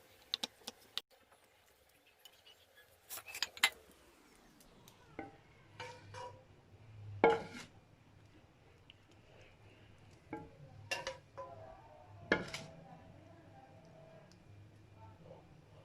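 Palak kofta gravy being dished out into a serving dish: sparse, faint clinks and scrapes of a utensil against cookware come in scattered taps over a low hum.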